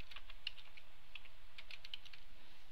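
A password typed on a computer keyboard: a short run of soft, quick keystrokes, faint and close, over a quiet background hum.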